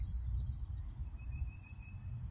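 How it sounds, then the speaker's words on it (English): A cricket chirps outdoors nearby in bright daylight, giving a thin high trill in short repeated bursts over a low background rumble, with no voices heard. "There's a cricket somewhere right here"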